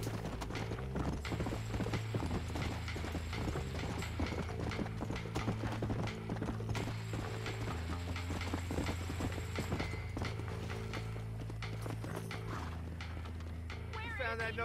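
Steady clip-clop of horse hooves in Red Dead Redemption trots along under overlapping voices, with a constant mechanical hum and soft rattling in the background throughout.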